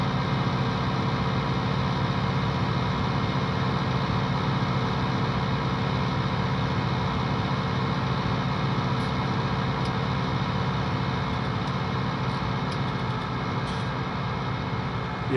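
A tractor engine runs with a cultivator hitched behind, giving a loud, steady, continuous drone that never changes, with no voices.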